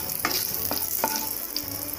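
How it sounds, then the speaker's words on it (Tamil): Onions and spices sautéing in a hot pan for mushroom masala, a steady close sizzle with a few sharp scraping stirs of a spoon spaced through it, no voices. "கொஞ்சம் வதக்கிக்கோங்க"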